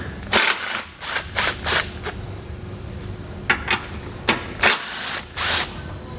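A 13mm socket on a power driver loosens the subframe-to-frame bolts on a 2019 vehicle, repeated short whirring bursts of varying length close by with brief pauses between them.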